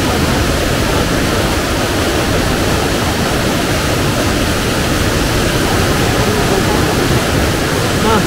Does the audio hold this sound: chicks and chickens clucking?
no